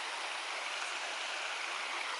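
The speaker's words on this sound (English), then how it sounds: "Beautiful creek, this one, crystal clear." Clear, crystal creek water flowing steadily, a bright continuous rushing hiss heard fairly close with no breaks and no voices.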